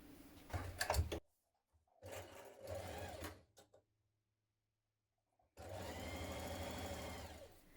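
A sewing machine stitches the short side and long straight edge of a Donny shirt collar with a 1 cm seam, running in three close, steady whirring bursts separated by pauses, the last one long and even.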